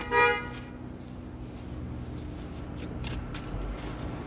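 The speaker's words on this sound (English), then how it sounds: "Let me shuffle these up." Playing cards being shuffled over steady low background hum, a short burst of riffling near the start followed by softer continuous shuffling and handling noise, no talking.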